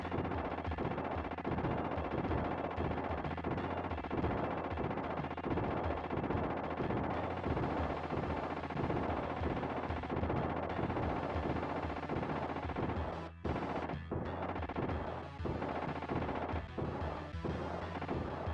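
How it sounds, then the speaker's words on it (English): Rapid, dense missile launcher fire from a SNES video game, a continuous loud barrage of repeated blasts with a few brief gaps near the end. "You are supposed to shoot the missile launcher now."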